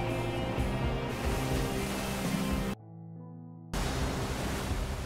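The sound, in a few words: big ocean waves while surfing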